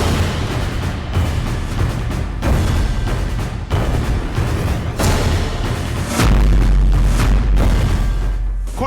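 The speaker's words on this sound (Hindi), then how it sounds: "जब ईरान के परमाणु ठिकानों पर अमेरिका बॉम्बर बम बरसा रहे थे" Heavy bombardment from US bombers striking Iranian nuclear sites: continuous deep rumbling booms with repeated loud blasts, a dense, sustained roar of explosions that swells louder near the end.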